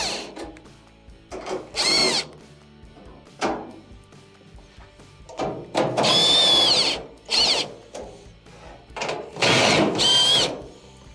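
A power driver backs 1/4-inch screws out of a Maytag dryer cabinet, with several short whirring bursts separated by pauses. The loudest runs come late, and the sound is close and fairly loud.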